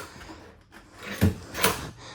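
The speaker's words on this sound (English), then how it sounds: "Couple of pull-out dovetail drawers," Pull-out dovetail drawers in the kitchen of a 2026 Brinkley Model G 3950 camper, heard as two close wooden knocks as a drawer slides and thuds shut, with no talk.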